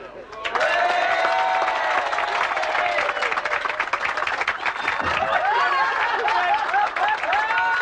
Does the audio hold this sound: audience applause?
yes